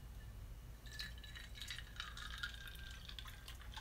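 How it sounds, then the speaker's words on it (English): Beer poured heavily into a glass while building a cocktail, a steady liquid fill with light glassy clinks, quiet and close, without talk. "Heavy pour."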